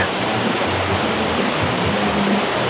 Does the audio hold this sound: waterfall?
yes